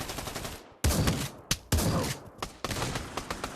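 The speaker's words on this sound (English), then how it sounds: "That shotgun sniper, man." A shotgun sniper rifle fires in the VR shooter Pavlov, several sharp loud blasts spaced about a second apart, each cutting off the one before, with lighter shots and clicks between.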